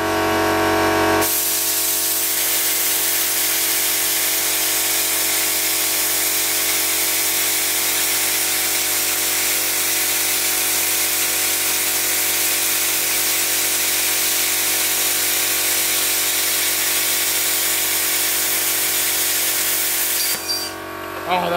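Plasma cutter slicing small semicircles in aluminium plate during a hand-built boat construction, a loud continuous hissing roar that starts abruptly, runs steadily for about twenty seconds and cuts off, with a voice briefly audible around it.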